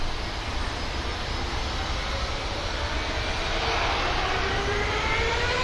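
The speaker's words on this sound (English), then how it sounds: "And the KLM spooling up." A KLM airliner's engines spool up at an airport, a broad steady roar with a slowly rising whine that grows gradually stronger over several seconds.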